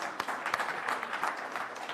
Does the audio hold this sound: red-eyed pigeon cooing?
no